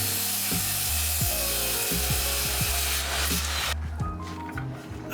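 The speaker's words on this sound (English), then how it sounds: "I'm cutting these smaller pieces here to give structural support on the bottom" Small pieces of wood are cut with a power saw, giving a loud, sustained motor drone with repeated rasping strokes as the blade bites, then a sudden drop as the cut ends.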